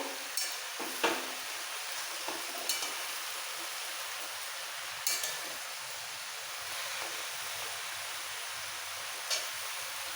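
Malabar spinach greens cooking in a pan, soft steady sizzle with occasional scraping taps of a spoon as the leaves are stirred, no talk.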